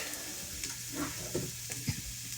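Soft onions frying in a pan while being stirred for a chicken curry, a steady low sizzle with a few scraping stir sounds, close and alone with no talk.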